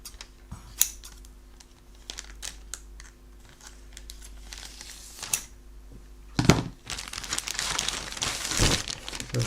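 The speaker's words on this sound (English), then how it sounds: "I'll get the scissors this time." Scissors snip and crinkle through the plastic packaging of an AMT 1/537 scale Star Trek Enterprise refit model kit, with sparse clicks and rustles early on, then denser close-up cutting and crumpling near the end.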